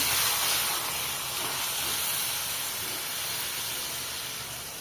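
Water poured into a pan of fried spices throws up a steady, loud hiss of steam and sizzle that holds for several seconds and slowly tapers off, with no voices.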